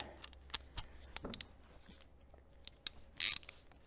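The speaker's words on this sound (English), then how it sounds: "let me take the wrench." Ratchet wrench clicking on the oil separator of an Audi A2 with a 1.4 16V AUA engine, heard as scattered sharp ticks and a few louder bursts near the end, fairly close, with no talk.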